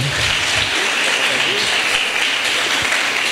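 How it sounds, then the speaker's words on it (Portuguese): Church congregation applauding during a worship service, steady dense clapping throughout, loud and close, with a voice audible faintly beneath it. "E aplauda Jesus pela vida do Guilherme."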